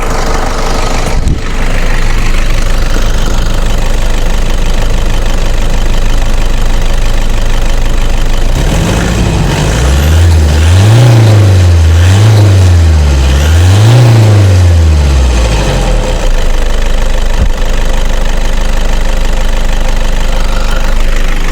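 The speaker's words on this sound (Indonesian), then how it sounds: "kita kasih suara mesin gas sedikit ya, bisa teman-teman dengarkan suara mesinnya" A Toyota Hilux double-cab diesel 4x4 pickup with a VNT turbo idles, then revs up in several rising and falling pulses before settling back to a steady rumble, with no voices.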